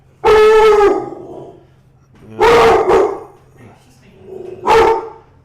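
A dog barks loudly and close by in three separate bursts, each a quick double or single bark, with quiet pauses between them and no talking.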